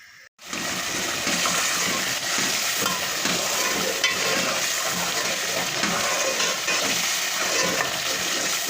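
Masala spice paste for red beans fries in a pan while being stirred, giving a loud, continuous close-up sizzle with scraping stir sounds.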